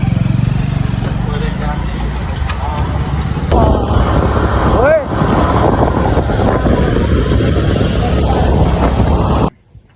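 A motorcycle engine drones steadily throughout, buffeted by heavy wind noise, with a brief rising whine midway; the roar stops abruptly near the end.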